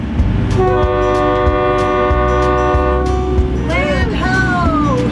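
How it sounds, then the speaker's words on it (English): A sailboat's horn sounds a long, steady blast on an offshore passage, followed by shorter wavering toots, loud over engine rumble and wind. "We got to alert everybody we're here. We'll honk the horn."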